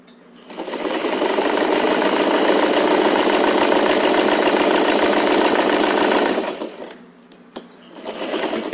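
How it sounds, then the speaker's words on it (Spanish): A sewing machine stitches elastic onto the leg opening of semi-thong panties made from fabric scraps, running fast and steady for about six seconds up close, then stopping, followed by a short restart. "Y continuamos la costura."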